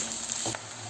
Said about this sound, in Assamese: এতিয়া ইয়াতে দি দিম গাজৰখিনি আৰু পিঁয়াজৰ ঠাৰিখিনি এইখিনি ভালকৈ ভাজি ল'ম